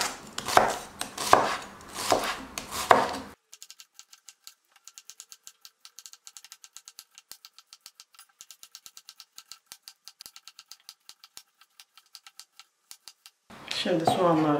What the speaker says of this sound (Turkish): Şimdi bu soğanları doğrayacağım. Ama ince doğramayacağım.